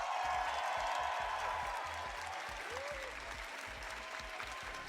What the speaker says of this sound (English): Can we get a big cheer for today